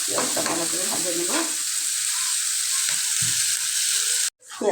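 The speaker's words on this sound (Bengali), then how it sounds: "পেঁয়াজটা ভালো করে ভাজে নেব।" Onion frying in oil in a pan while being stirred, a steady bright sizzle with occasional scrapes of the spoon, then a sudden brief cut before the sizzling returns.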